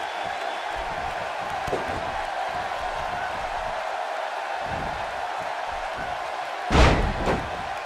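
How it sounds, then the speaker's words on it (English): At a WWE SmackDown match in an arena, a wrestler crashes down onto the ring mat with a single loud thud near the end, heard over steady crowd noise. "She slams her down with great force"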